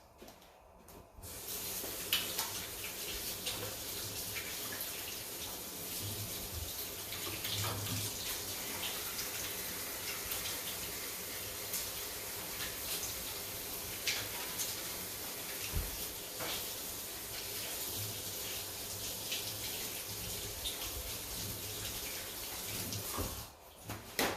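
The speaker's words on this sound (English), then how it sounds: "So I'm going to wash my hands." A kitchen tap runs in a steady, loud hissing stream for over twenty seconds while hands are washed at the sink, with faint splashing changes and no talking.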